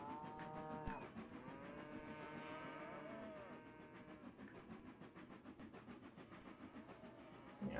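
Cows moo softly in a rural scene in the Trainz 22 railway simulator, several long, drawn-out calls overlapping against a steady ambient background with faint bird sounds. The whole scene stays quiet and distant.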